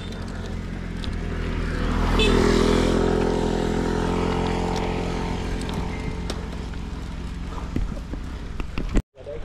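A motorcycle engine rumbles past on a road in the southern Philippines, swelling louder then slowly fading as it moves away, ending in a brief thump.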